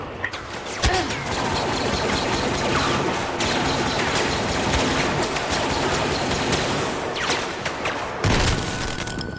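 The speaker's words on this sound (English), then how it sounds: "Oh, that's a bomb. Flashbang." A flashbang grenade goes off in a video game, amid a loud, dense wash of gunfire and booms with sharp blasts near the start and end.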